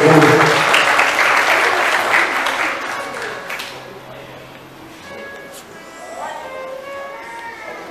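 A congregation claps loudly at a Quadrangular church service in Belo Horizonte, the dense applause fading over a few seconds into murmurs and scattered voices.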